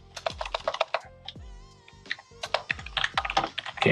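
Computer keyboard typing, quick irregular keystrokes close by and fairly loud, interleaved with someone speaking.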